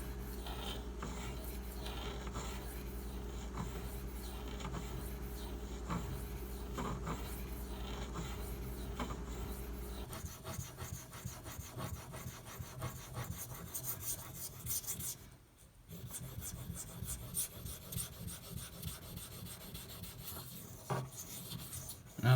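A steel EDP knife blade is sharpened on a HAIDU silicon carbide whetstone, giving repeated rhythmic gritty rasping strokes, close and continuous, with a brief pause near the middle.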